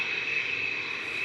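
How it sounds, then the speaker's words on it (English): An Airbus A320 Classic lifting off at Manchester Airport gives a steady, loud engine roar with a piercing high whine held throughout, continuous and close with no talk. "That's an A320 Classic just lifting off now."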